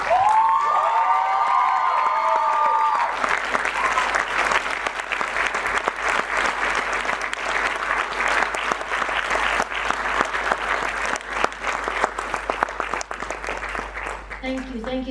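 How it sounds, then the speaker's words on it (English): A crowd at an Arangetram dance debut gives a standing ovation, sustained loud clapping with some cheering that runs unbroken for several seconds after a brief stretch of speech at the start. "she deserves a standing ovation"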